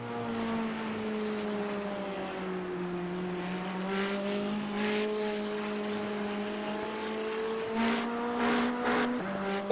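A Porsche race car engine in a GT4 racing game, a steady, droning whine that rises and falls with throttle and gear changes, sounding close and continuous with a few sharper shift blips toward the end.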